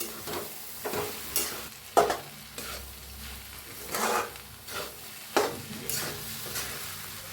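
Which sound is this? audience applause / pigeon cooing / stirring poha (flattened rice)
stirring poha (flattened rice)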